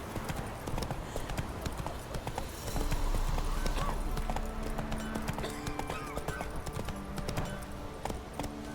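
Roach, the horse in The Witcher 3, trots with a steady, close clip-clop of hooves over ambient game background and a brief whinny, with no voices.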